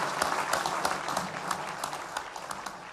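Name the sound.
applause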